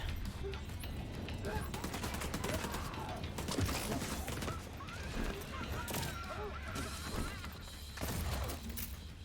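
Rapid bursts of automatic gunfire and impact thuds in The Division 2 as a player shoots at a turret, dense and continuous with sharp cracks and occasional shattering, under intermittent voices.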